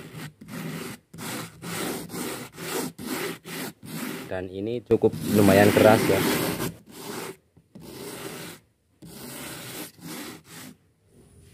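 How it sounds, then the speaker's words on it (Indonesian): Hand sanding of a dried finish coat on a speaker box made from recycled styrofoam, heard as repeated rhythmic rubbing strokes with brief pauses, close and fairly loud, with a person talking over part of it. "sudah kering dan saatnya melakukan pengamplasan agar terlihat lebih rapi"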